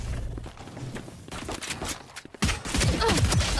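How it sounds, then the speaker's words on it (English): Gunfire in a Valorant match at a VCT Pacific esports event, with scattered shots early and dense rapid bursts of fire in the latter half, fairly loud and continuous. "Let the bullets fly."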